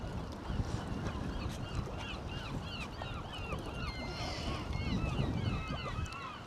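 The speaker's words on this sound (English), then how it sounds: "Seagulls are in full song anyway." Seagulls call over and over at North Shields Fish Quay, their overlapping cries rising above a constant wash of wind and water.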